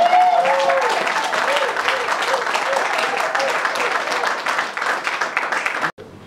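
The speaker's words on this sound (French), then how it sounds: "Est-ce que nous pouvons encore applaudir plus fort que ça?" Loud, dense applause from an audience at a ceremony honoring a regulatory council president, sustained for about six seconds with a voice sounding briefly over it before it cuts off abruptly near the end.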